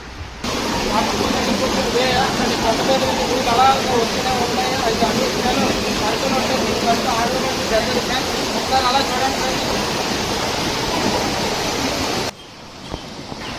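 Waterfall at Punyagiri temple, a steady broadband roar of falling water running nearly the whole time, with a person speaking briefly over it before it cuts off near the end.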